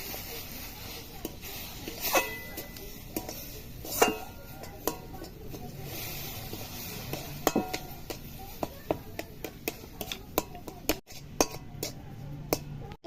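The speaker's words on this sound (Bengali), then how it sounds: "অল্প অল্প করে দেবো আর নাড়বো।" A spoon scrapes and clinks around a pan as semolina, lightly fried in oil, is stirred with milk added bit by bit; irregular close metallic taps and scrapes run throughout with a voice talking over them.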